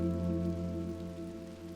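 Rain falls steadily during a storm, a dense continuous hiss under a low droning hum, moderately quiet and unbroken.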